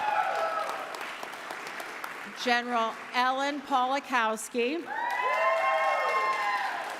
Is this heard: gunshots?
no